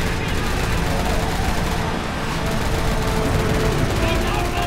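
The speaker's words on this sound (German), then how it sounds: "sie schießen mit ihren Raketenwerfern auf Eder" Rocket launchers fire in Resident Evil 6 on an aircraft carrier, a dense, loud, continuous barrage of blasts and gunfire with no clear gaps between shots.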